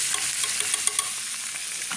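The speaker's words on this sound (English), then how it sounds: "here comes the mushrooms. Ah, you love that sound, huh? The sound of some sizzle." Mushrooms sizzling in a frying pan for carbonara, a bright steady crackle with small pops as they are stirred, close and alone.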